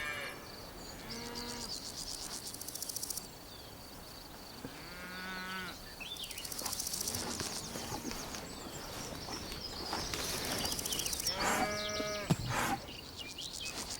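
Cattle grazing in the hedged bocage farmland of Burgundy moo several times, some calls close and loud, others farther off, with birdsong and insects around them.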